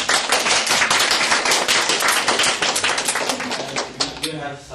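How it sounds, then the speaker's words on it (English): Audience applause after a Buddhist Dhamma talk at U.T., a dense burst of many hands clapping close and loud, then tapering off near the end. "a round of applause."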